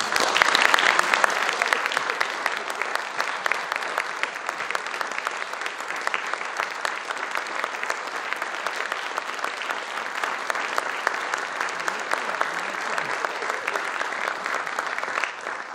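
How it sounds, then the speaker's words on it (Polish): Sustained applause from a concert audience at a folk music laureates' concert, dense and steady clapping throughout with no speech over it. "Wielkie brawa dla nich jeszcze raz."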